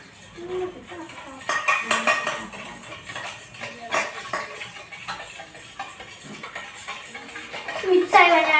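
A spoon scrapes and clinks against a pan while a mixture is stirred and left to melt, irregular close metallic taps and scrapes running throughout, with a voice talking over them.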